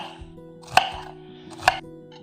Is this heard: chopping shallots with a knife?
yes